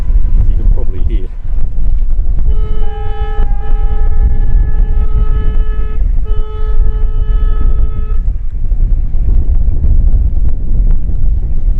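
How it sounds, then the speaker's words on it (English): Boat horns sound at a marina entrance, two sustained tonal blasts of several seconds each with a brief gap between them, heard over heavy wind noise on the microphone. "Sound of boat horns, letting everybody know that they're going through the entrance to the marina"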